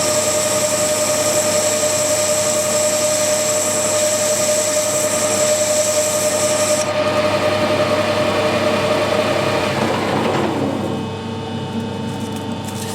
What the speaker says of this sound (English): I've got a tool set up just to put a recess in for the screw cutting tool to end up in.